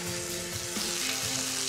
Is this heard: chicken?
yes